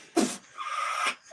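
A cat gives a short, close meow followed by a longer drawn-out cry, both fairly faint against a quiet background.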